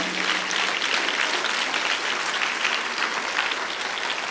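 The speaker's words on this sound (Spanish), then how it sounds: "Dale un aplauso fuerte a Jesús." A church congregation claps loudly and steadily, a dense wash of applause holding at even strength from start to finish with no speech over it.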